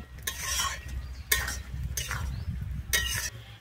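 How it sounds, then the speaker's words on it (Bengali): Fried potatoes sautéed in a thick masala gravy for Bengali potol chingri, a spatula scraping and stirring in a few strokes over a low, steady sizzle, close and alone. "আমি আলুটা দিয়ে কিন্তু আমি 1 মিনিটের জন্য কষিয়ে নেব।"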